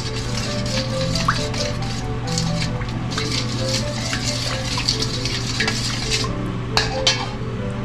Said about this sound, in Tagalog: Halo-haloin na natin.